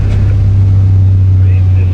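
A loud diesel engine idles at low revs, around 90 decibels, with a deep, steady low hum that dominates throughout.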